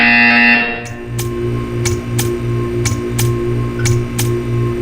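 Buzzer in the video game Portal 2: a repeated rhythmic electronic buzz with sharp periodic clicks, loud and close, following a brief tonal sound at the start.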